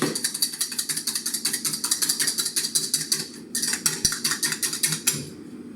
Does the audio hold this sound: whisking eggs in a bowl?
yes